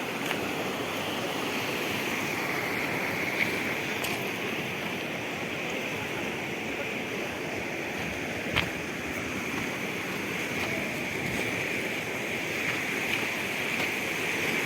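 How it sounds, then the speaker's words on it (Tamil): Mountain stream in Kyrgyzstan rushing steadily nearby, a dense, even wash of flowing water that holds constant throughout with a few faint clicks on top and no voices. "வாட்டர் போயிட்டுருக்கு."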